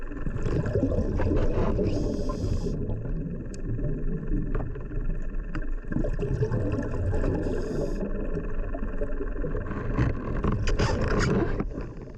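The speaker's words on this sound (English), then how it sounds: "I can hear the boat, I'm not sure where it is." A boat engine droning underwater during a night dive near Castle Cornet, a steady dense hum with hissing water noise throughout, distant and reverberant, with no talk.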